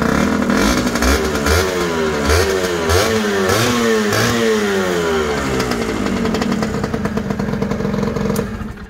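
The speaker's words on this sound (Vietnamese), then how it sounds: "Đó, đây mình nổ máy thử anh em này." A Honda Phantom 150 water-cooled two-stroke motorcycle is revved repeatedly, its loud, close engine note swooping up and down in pitch over a constant rattling drone, alone without speech.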